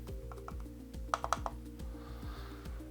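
Several sharp clicks from a replaced Amiga mouse button in a quick cluster, fairly loud and close, over a steady mechanical hum with faint rhythmic ticking.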